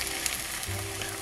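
A flipped pancake sizzles in a hot pan, with a steady, close frying hiss and a low crackle throughout a brief moment.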